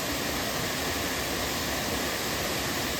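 Kote Abbe waterfall in Coorg, running with low water, gives a steady, even rush of falling water with no pauses or voices.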